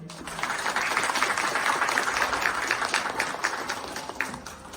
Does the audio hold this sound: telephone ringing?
no